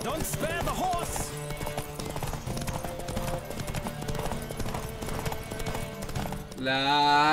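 Hooves pound steadily through a Witcher 3 horse race, the galloping rhythm constant under game music and shouted voices, with a brief whinny-like sweep near the end.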